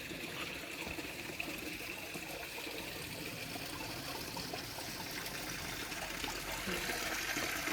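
Spring water trickles and babbles steadily along a small natural stream, a continuous gentle flow with no voices.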